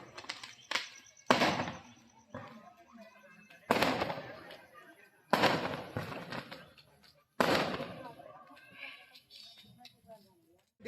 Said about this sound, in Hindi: तो भाई केक कटने के बाद पटाखे का प्रोग्राम था, तो देख लो आप छूट रहे हैं पटाखे।